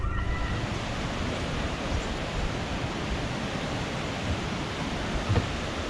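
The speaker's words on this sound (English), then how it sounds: "It's the lock filling with water." A canal lock fills with water on a sailing trip along England's south coast, giving a steady, loud rushing roar that holds constant throughout with no pauses.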